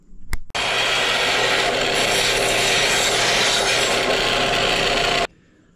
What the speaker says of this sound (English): Let's sand this down now.